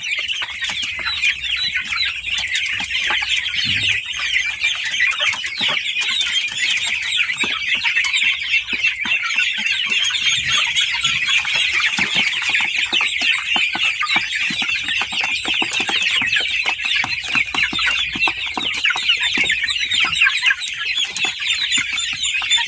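Native Indonesian KUB kampung chickens cluck steadily and busily throughout, a dense chorus of nearby fowl chatter with no pauses, like a flock pecking at food.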